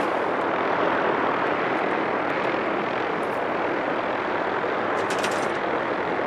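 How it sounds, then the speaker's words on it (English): A helicopter's loud, continuous rotor and engine roar in the video game Fallout 4 fills the scene without letting up. "this chopper that's making a lot of noise"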